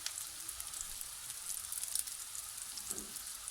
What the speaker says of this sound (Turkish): Alt tarafı kızaran köftelerimizi şöylece çevirelim. Biraz kızarması yeterli.